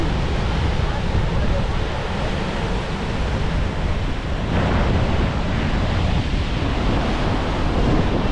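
Niagara Falls roars as a dense, continuous rush of crashing water heard close from the side, a loud unbroken wash mixed with wind buffeting the microphone.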